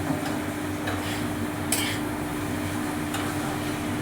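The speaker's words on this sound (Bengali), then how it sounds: "আমি এটাকে আরো একটুখানি সময় কষাবো" Potatoes and carrots sautéing with spices in a pan for vegetable pulao, a steady low sizzle with occasional soft scrapes and a brief clink of a spoon, close and even throughout, no talking.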